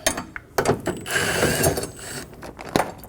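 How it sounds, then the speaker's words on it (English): A ratchet with a 10mm socket turns out screws on the front door of a 2008–2015 Scion xB, with short bursts of clicking pawl teeth, close and crisp, separated by brief pauses. "Using a 10mm, we're going to remove the two screws"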